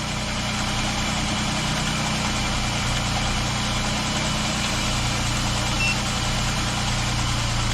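A cold vehicle engine idles just after start-up, a steady low drone with an even mechanical hum that holds constant and fairly close throughout, with no talk.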